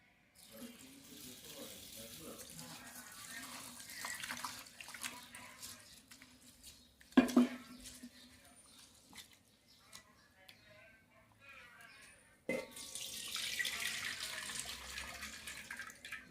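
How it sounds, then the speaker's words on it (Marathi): Rice and urad dal are rinsed in clean water, with sloshing and running water in bursts separated by quieter gaps and a sharp knock midway. "मिक्स केलेले तांदूळ आणि उडदाची डाळ आपण 2 ते 3 वेळा स्वच्छ पाण्याने धुवून घेऊ"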